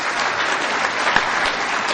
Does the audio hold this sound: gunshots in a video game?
no